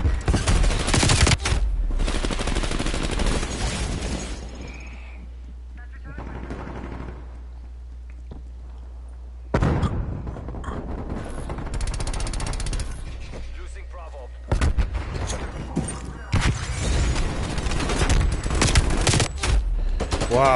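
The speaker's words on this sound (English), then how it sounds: "He just came on here and just start shooting." Automatic gunfire in the Black Ops 4 multiplayer game rattles in loud, dense bursts separated by quieter gaps, with voices talking over parts of the fighting.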